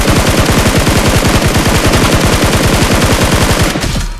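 Rapid automatic gunfire in PUBG Mobile, fired to finish off an enemy, hammers out as a loud, dense, evenly spaced burst that runs for about four seconds before cutting off abruptly.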